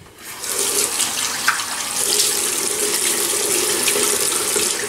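Tap water running steadily into a sink to wet the face before a shave, a continuous close rushing stream with no talking.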